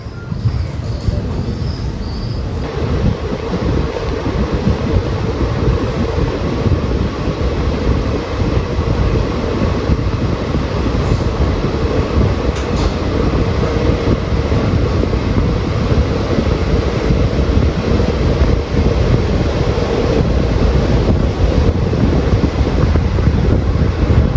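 Steady rumble and rattle fill the inside of a moving passenger train near Kannur, Kerala, with constant wind rush from open windows and no voices.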